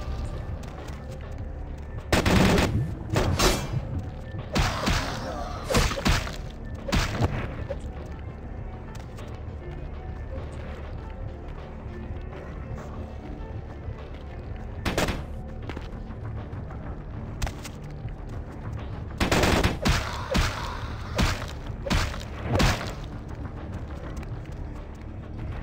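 Enemy gunfire in Vampire the Masquerade: Bloodlines, loud repeated bursts of shots and booming blasts in clusters over a constant low game rumble, with a voice speaking between volleys.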